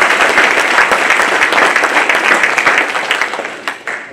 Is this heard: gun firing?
no